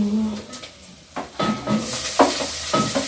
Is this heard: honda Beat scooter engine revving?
no